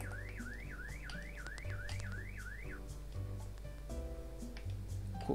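An alarm in the video game Klepto wails in a rapid rising-and-falling siren pattern for a few seconds, then stops, leaving steady background music and game tones.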